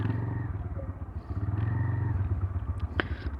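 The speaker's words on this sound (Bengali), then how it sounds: "গাড়িটা স্টার্ট দিলাম।" A motorcycle engine just started and running steadily after leaving a ferry ghat near Mawa, a close, continuous low rumble and purr with a brief sharper clatter near the end, no voices.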